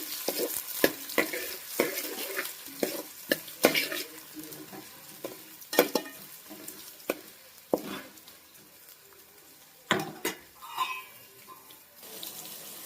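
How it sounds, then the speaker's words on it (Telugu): Onions frying in a pan, a soft sizzle under repeated sharp scrapes and knocks of a spoon stirring against the pan. "ఇవైతే ఆనియన్ ఫ్రై అవుతున్నాయి కదండి"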